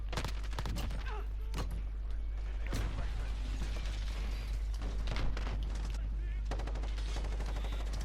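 Rapid bursts of Kilo 141 assault rifle fire in Call of Duty: Modern Warfare, with repeated loud automatic volleys and mechanical clatter filling the whole stretch under busy game noise.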